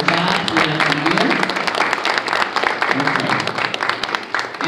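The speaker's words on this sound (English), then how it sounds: "So I just want to give right now just a round of applause for Mr. Sobolewski" Loud, sustained applause from an audience at a school band recital, dense clapping that fills the whole stretch with crowd noise beneath.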